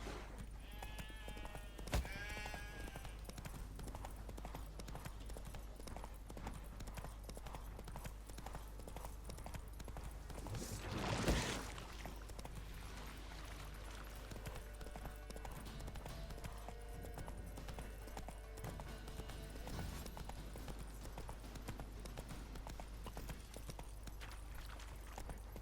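In The Witcher 3, the horse Roach trots with a faint, steady clip-clop of hooves against low background ambience, marked by a sharp thump near the start and a brief louder swell midway.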